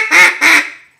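Duck call blown in a simple quack, two short close reedy bursts in quick succession, alone and clear.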